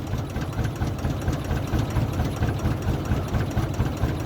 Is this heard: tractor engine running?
yes